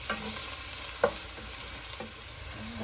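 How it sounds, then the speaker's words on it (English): Onions sautéing in a pan give a steady, close sizzle with a few soft stirring scrapes and one brief clack of a utensil about a second in, with no voices. "let the onions saute down for a little bit"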